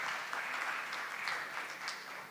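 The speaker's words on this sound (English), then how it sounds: "a big round of applause" Audience applause at a corporate conference held at a resort in Nashik, a steady wash of many hands clapping, heard fairly faint and distant and sustained throughout.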